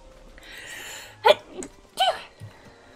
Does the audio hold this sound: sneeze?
yes